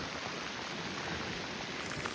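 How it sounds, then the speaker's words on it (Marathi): Rain falls steadily on a mountain trekking trail near waterfalls, a soft even hiss of drops on surfaces that stays constant throughout, with no voices. "तर पावसाला सुरुवात झालेली आहे"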